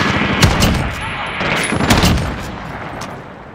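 Rapid bursts of automatic gunfire crack through a Call of Duty Modern Warfare firefight, loud and close with several overlapping volleys, while a shouting voice is faintly mixed in.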